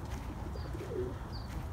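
Pigeons in a coop give soft, low cooing calls, brief and fairly faint against a steady background hum, with no talking.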